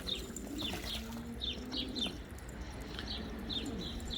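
Pigeons cooing repeatedly nearby, with soft chirps and faint wing flutters over a low background hum.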